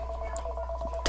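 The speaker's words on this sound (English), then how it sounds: "The phone's ringing" A telephone rings steadily at moderate volume under a low background hum, the repeating tone pulses running through most of the moment before a louder burst at the end.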